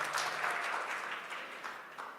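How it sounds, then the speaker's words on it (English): An audience at a digital and technology event clapping for themselves, a dense burst of many hands applauding together that fades slightly over a couple of seconds, with no talk. "Clap for yourselves."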